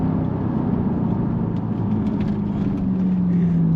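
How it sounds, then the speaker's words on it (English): A rear-wheel-drive Jaguar XF R (X250) saloon accelerating hard, its engine a loud, continuous close-up roar whose pitch climbs steadily toward the end, with no talking. "It really gets going the moment you put your foot down."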